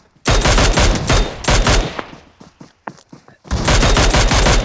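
Gunfire in the battle royale video game PUBG, loud close bursts of rapid automatic shots in two long volleys, with a few single cracks in the pause between them.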